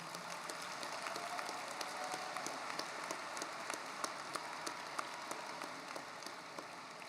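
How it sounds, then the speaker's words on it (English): Sustained applause from a large audience at a high school graduation, a dense even patter of many hands clapping at a distance, steady throughout without voices. "Please give a round of applause to your parents, friends, loved ones, teachers, staff"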